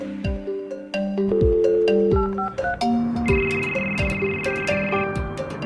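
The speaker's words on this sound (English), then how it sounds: "Let's get Martha on the phone and get going." Office desk speakerphone placing a call, with a run of electronic dial tones and beeps in uneven sequence, followed by tonal ringing, close and clear with no talking.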